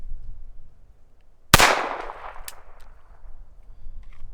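A single loud gunshot from a TX22 pistol firing Norma ammunition, a sharp crack followed by a ringing decay, then quieter clicks and low background rumble.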